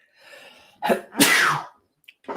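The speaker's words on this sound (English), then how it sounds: "pardon me, a little sneeze there" A single sharp sneeze close to the microphone, preceded by a short inhale and followed by a brief breathy exhale.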